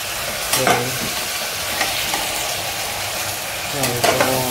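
Fish head dropped into a pan of frying bottle gourd, with a steady close sizzle and a few sharp stirring scrapes near the start and again toward the end.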